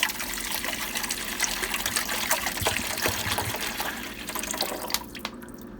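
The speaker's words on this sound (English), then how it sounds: "So I am gonna take my bottle of water and I'm gonna pour it inside." Bottled water pours steadily into the reservoir of an Igloo ice maker, a continuous close trickle and splash that thins out near the end.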